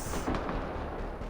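A grenade blast from the video game Mass Effect Andromeda, a dense rumbling explosion filling the short moment with loud, sustained broadband noise.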